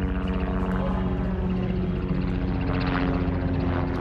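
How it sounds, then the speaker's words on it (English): A helicopter drones steadily overhead at Disney's Fantasia Gardens mini golf, a constant low engine hum and rotor throb holding at moderate loudness throughout. "Always a helicopter."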